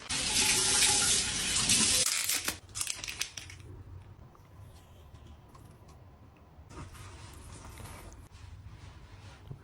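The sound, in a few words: water running in a shower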